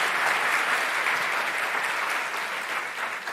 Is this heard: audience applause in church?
yes